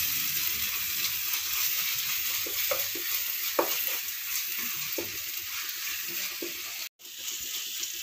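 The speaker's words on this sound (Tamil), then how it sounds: "இது நல்லா எண்ணெயில் வதக்கணும்." Chana masala frying in oil in a pan gives a steady, dense sizzle all the way through, with a few soft scrapes and knocks of stirring. The sound cuts out for a brief moment near the end.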